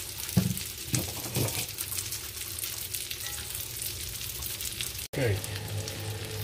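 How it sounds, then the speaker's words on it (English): Thick boneless pork chops fry in butter in a cast iron skillet, giving a steady, close sizzle with occasional stirring clatter; a voice speaks briefly near the end. "Make sure we get them coated with butter, and we'll let them sit here for a while"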